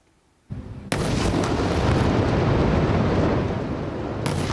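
A massive explosion as the Israeli military destroys a building in Gaza, starting with a sharp onset after a short quiet, then a loud, sustained rumbling roar of collapse and debris that slowly fades, with a second burst near the end.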